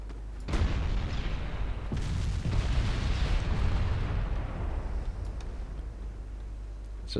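Naval battle in the game Ultimate Admiral Dreadnoughts, with heavy gunfire and explosions booming out, several sharp blasts followed by a long rolling rumble at steady volume.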